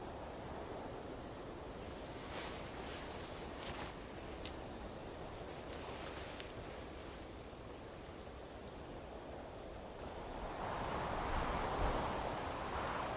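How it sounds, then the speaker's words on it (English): Cold wind blows off the Southern Ocean in early spring, a faint, steady broadband rush with soft gusty buffeting, rising into a louder surge near the end, no voices. "In early spring, cold winds blow off the Southern Ocean."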